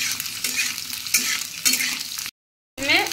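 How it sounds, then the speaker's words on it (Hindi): Sliced onions and capsicum frying together in a kadai for kadai paneer, with a loud close sizzle and rhythmic stirring scrapes, cut off by a short silence before frying resumes. "डालेंगे प्याज, इसको भी भूनेंगे साथ में।"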